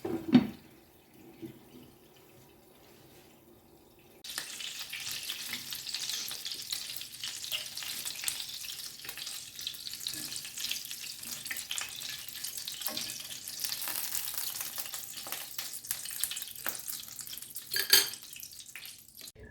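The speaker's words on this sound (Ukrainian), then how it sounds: "Ось і пережарила всі котлети." Meat cutlets frying in a pan, quiet at first, then a loud steady sizzle with crackles and pops that continues to the end, with no talk.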